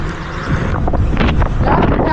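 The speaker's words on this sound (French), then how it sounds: "il y a beaucoup de vent, je ne sais pas si on va m'entendre bien" Wind buffeting a microphone during a fast ride on a G2 electric scooter, a steady broadband roar filling the whole clip with a voice talking faintly underneath.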